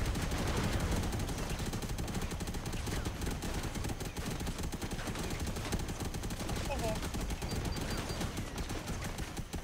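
Rapid, continuous gunfire in the robot combat game Robocraft, loud and dense throughout as weapons shoot at an enemy robot's ports.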